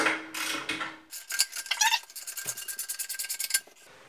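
A 13 mm ratcheting wrench tightening toilet bolts, a close rapid run of metallic ratchet clicks after a brief scrape, with no talk.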